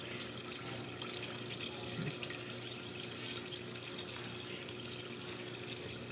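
Water poured from a tap over pineapple peels in a cooking pot, a steady rushing stream that holds evenly for several seconds with no talk.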